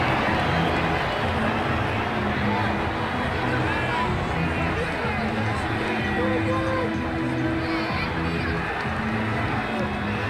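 Stadium crowd noise in a cricket video game, a steady roar of applause and murmuring hubbub for a batsman's half-century, continuous and moderately loud throughout with faint whistles rising above it.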